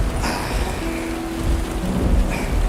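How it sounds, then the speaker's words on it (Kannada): Heavy monsoon rain pours in a dense, loud, steady roar, with low rumbles of thunder rolling underneath, close and enveloping with no talk. "ಎಂತ ಮಳೆ ಮಾರ, ಮಾತಾಡ್ಲಿಕ್ಕೆ ಸಹ ಬಿಡುವುದಿಲ್ಲ"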